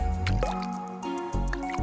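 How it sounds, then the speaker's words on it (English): Small splashes from tiny jumps in rain puddles, a few soft wet drips and squishes spaced across a short moment, close and fairly quiet with no talking. "I'm doing tiny little jumps and making tiny little splashes."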